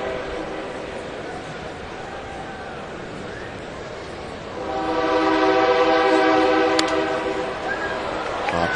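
Train horn sounding near a baseball stadium during a Rangers game, a sustained multi-tone blast rising midway and holding for several seconds over steady crowd murmur and ballpark ambience.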